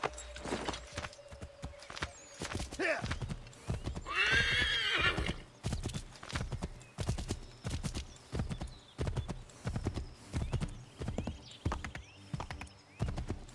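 Rhythmic hoofbeats of a galloping horse in the video game Assassin's Creed III, loud and close, broken midway by a long, high neigh.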